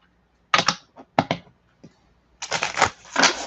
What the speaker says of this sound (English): We put the cards all together and we shuffle them up.